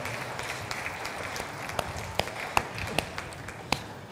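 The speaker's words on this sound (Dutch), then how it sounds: "Zullen we ook deze een applaus meegeven?" A crowd at the final of a dressage aptitude competition for four-year-old horses gives thin, scattered applause. Sparse claps of uneven loudness fall over a quiet hall or arena.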